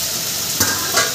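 Fried vegetables tossed into masala in a pan for a fish curry, a loud, dense, continuous sizzle with two brief stirring scrapes.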